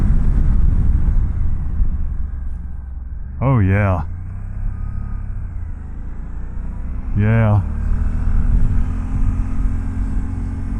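A 2024 Suzuki V-Strom 800 motorcycle rides with a steady engine and road rumble that eases and rises as it brakes and pulls away. The rider speaks briefly twice over the noise.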